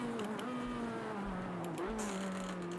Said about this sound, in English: The turbo kicks in so unbelievably fast.